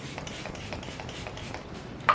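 A steady hiss of Maybelline Lasting Fix makeup setting spray sprays for about two seconds, close and continuous, with a slight pulsing, ending in a small click.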